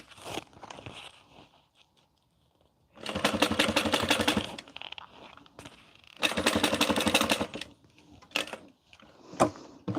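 A domestic sewing machine stitches through fabric and its lining in two sustained bursts of rapid mechanical clatter, each lasting about two seconds, separated by quieter handling noises and a few short clicks.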